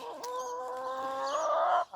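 A chicken gives a drawn-out, wavering call up close, steady for nearly two seconds before breaking off, with no voices present.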